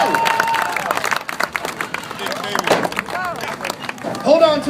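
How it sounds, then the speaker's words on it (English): Crowd at a state fair alligator show claps and cheers after the handler catches an eight-foot alligator, a mix of applause, shouts and nearby voices rising toward the end. "Give him a nice big round of applause."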